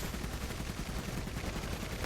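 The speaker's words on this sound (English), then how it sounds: "And it has constant machine gun fire." A Usonia faction unit in the Iron Harvest real-time strategy game fires its machine gun constantly, producing a dense, continuous rattle of rapid shots that runs without a break throughout.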